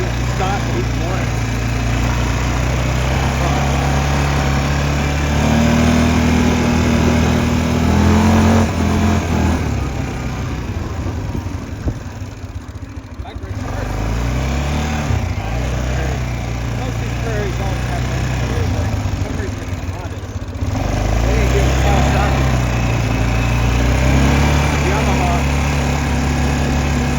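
A four-wheeler ATV engine with major problems runs steadily, its pitch stepping up and dropping back as it shifts through the gears one at a time, loud and close, with a voice talking over it.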